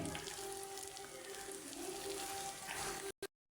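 Shami kabab burger patties, brushed with egg, fry in hot oil in a pan with a steady, close sizzle and crackle that carries on alone before cutting off abruptly.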